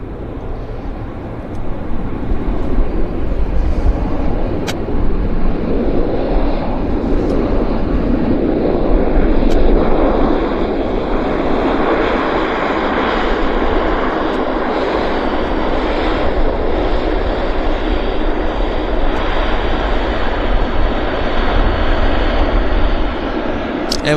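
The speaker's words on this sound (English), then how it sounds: "And we've got another aircraft on approach, guys, so it got busy." An airliner approaching Vancouver International Airport gives off a sustained, swelling engine roar that builds over the stretch and stays loud throughout, with faint background chatter.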